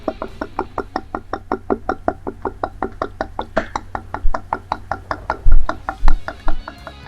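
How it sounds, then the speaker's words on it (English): Steady, rhythmic glugging as ink drains from a bottle into the tank of an Epson ET-3850 EcoTank printer, close up, with a few louder gurgles near the end. "Now you can see it fill up, and it will fill up automatically"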